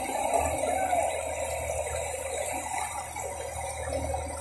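Flood water flowing through a city avenue with no drainage system during heavy rains, a steady rushing wash with a low rumble beneath, continuous and fairly close.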